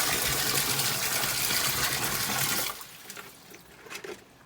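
Water gushes and pours steadily into a sump pump pit, loud and continuous for a few seconds before cutting off, followed by a few faint splashes and drips.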